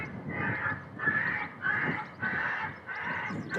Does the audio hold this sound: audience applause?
no